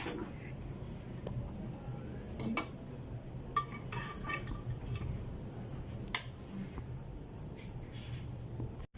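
Green chana pulao being dished out with utensils, with sparse clinks and scrapes of spoon against pot over a low background hum.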